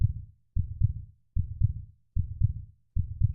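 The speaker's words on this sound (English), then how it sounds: "Don't you just love that heartbeat, though?" Looped heartbeat sound effect playing during a crypto market show: deep, thudding lub-dub pairs repeating steadily about every 0.8 seconds, loud and close, with no voices over it.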